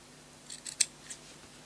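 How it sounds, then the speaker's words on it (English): A few quiet scissor snips trimming the fabric corners of a homemade baby blanket, soft close clicks in a brief cluster with one sharper cut in the middle, against a quiet room. "I like to just snip these corners just slightly, just take the bulk off the corner,"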